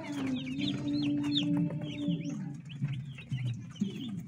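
Broiler chicks on their first day in the brooder, a close, busy chorus of high peeping and soft clucks over a low steady hum, no voices.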